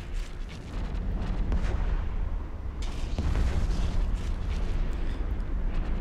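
Ship weapons fire in the space game EVE Online as a rumbling barrage of heavy booming shots, dense and continuous with repeated low thuds and blasts, no talk over it.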